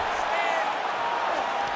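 A crowd cheers and roars steadily through a simulated MMA bout between Brendan Allen and Anthony Hernandez in a fight video game, a dense, continuous wash of arena noise with a commentator talking over it.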